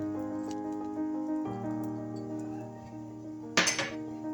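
A spoon stirs thickening milk with sugar, pistachios and almonds in a pot for shahi tukray, making soft, faint scraping and clinking under a steady hum, then one sharper metallic clatter near the end.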